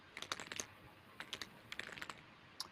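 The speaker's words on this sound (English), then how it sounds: "I can hear her typing, I think." Quiet typing on a computer keyboard, irregular bursts of light key clicks in two short runs, somewhat distant and alone.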